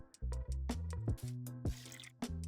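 Watering flowers in the Factory Balls Go game, heard as a quick series of bright, bubbly water drips and plinks, about eight distinct droplet sounds in an uneven rhythm, clear and close.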